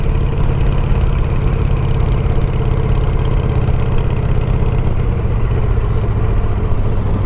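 A 2007 custom bobber motorcycle engine idling close by, a loud, steady, even rumble with fast regular firing pulses and no change in pace throughout; no talking.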